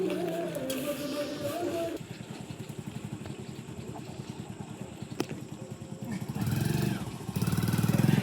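A motorcycle engine runs with a fast, even putter of firing pulses, close and moderately loud, with voices talking over it at the start and again near the end.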